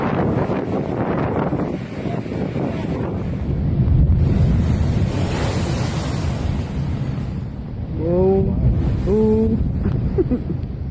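Massive storm waves crash and roar at Marshfield, a continuous loud surge of surf buffeted by heavy wind noise, with a brief voice heard near the end.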